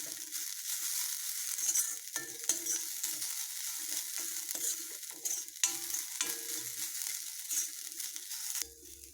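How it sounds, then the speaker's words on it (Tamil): Coconut is lightly roasted in a kadai for poha laddu, with a thin, dry sizzle under steady repeated scraping and stirring strokes of a spatula, close and moderately quiet. "இப்போ அதே கடாயில் நம்ம தேங்காவையும் கொஞ்சம் லைட்டாக வறுத்து எடுத்துக்க போகிறோம்."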